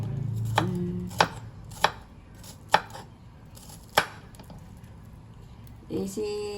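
A knife chops food on a cutting board in a home kitchen, several sharp separate strikes at an uneven pace over a low background hum, with people speaking faintly nearby.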